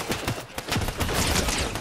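Rapid gunfire crackles through walls in a video game, a dense run of loud, close shots fired in quick bursts with no pauses and no talking.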